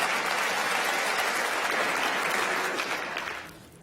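Sustained applause from a large crowd at a national strike gathering, dense clapping held loud and steady before fading out near the end.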